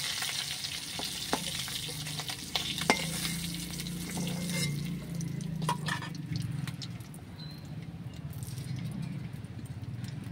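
Snakehead fish frying in oil in a wok, a loud crackling sizzle at first that settles into a steady, softer bubbling with scattered stirring clinks and drips.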